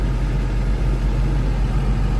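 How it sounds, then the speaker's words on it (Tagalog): A Caterpillar D8R bulldozer with a 3406 engine idles, giving a steady, deep, continuous rumble close by with no variation in pitch or rhythm. "Bulldozer to mga buddy, D8R"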